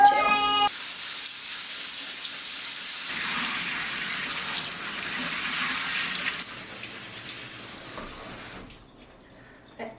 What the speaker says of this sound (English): I always rinse my beans, canned and when I'm making dried, both ways.